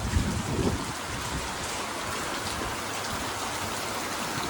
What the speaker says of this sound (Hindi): 5-6 दिन हो गए रोज बारिश आ रही है